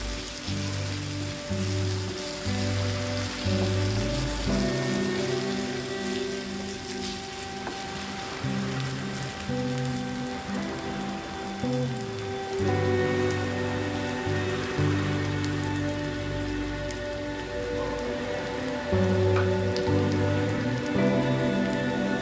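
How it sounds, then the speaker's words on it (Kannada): Onions with a little turmeric frying in a pan for capsicum chicken fry, producing a continuous crackling sizzle like rain on a surface that runs at steady loudness throughout, with no talking. "ಅದು ಚೆನ್ನಾಗಿ ಫ್ರೈ ಮಾಡ್ಕೋಬೇಕು"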